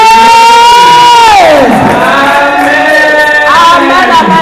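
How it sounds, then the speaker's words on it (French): A church congregation at a Sunday service acclaiming and cheering, a loud sustained shouted cry that swoops downward and rises again over a crowd, close and continuous. "Nous acclamons pour la présence du Saint-Esprit."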